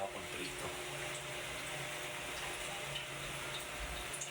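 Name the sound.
cooking oil heating up in a pan for frying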